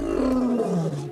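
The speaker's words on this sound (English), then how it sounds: "As we know, they roar." Big cat roaring: one deep, loud, close roar with a falling, rumbling pitch, heard alone and lasting about a second.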